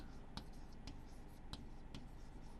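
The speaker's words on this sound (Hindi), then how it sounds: "और इसका हम अब नंबर नेम लिखेंगे" Pen or pencil scratching on paper while a number name is written by hand, several short faint strokes spaced out over a steady background hiss.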